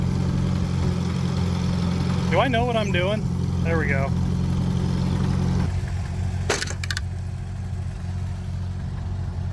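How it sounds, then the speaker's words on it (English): An old auction tractor bought for $300 idles with a steady, low diesel-like chug while someone talks over it. Midway the engine's tone shifts and drops, and a brief clatter follows. "we're not gonna shut the tractor off"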